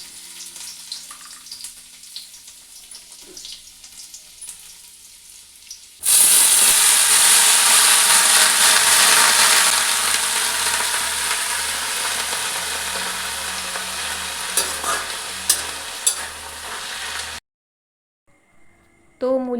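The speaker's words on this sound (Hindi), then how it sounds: "तो मूली पत्ता जो है वो मैंने छौंक दिया है" Radish leaves tempered with garlic hit a hot pan with a sudden loud sizzle that fades slowly as they are stirred, with someone speaking before and after.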